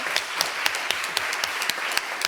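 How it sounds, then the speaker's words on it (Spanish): An audience applauds at a talk on work time and life time, sharp individual claps over a dense, even patter that holds steady from start to finish. "vamos a aplaudir a Paz, por supuesto, evidentemente."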